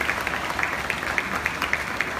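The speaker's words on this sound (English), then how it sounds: "Let's give Her Majesty a big round of applause, ladies and gentlemen" An audience applauds the Queen of Malaysia at a festival opening ceremony, with steady rhythmic clapping in a large space and distinct claps standing out over the crowd.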